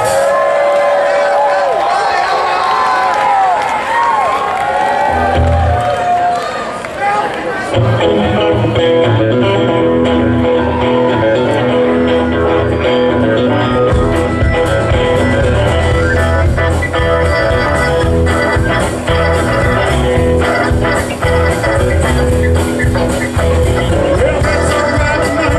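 A large crowd at a tribute concert claps and cheers loudly and continuously, with a voice speaking over the noise at the start.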